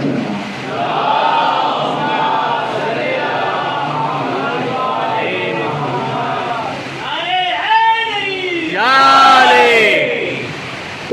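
At a Muharram majlis in a Delhi imambargah, a large crowd loudly chants salawat together, a sustained swell of many voices rising into louder, more emphatic calls toward the end.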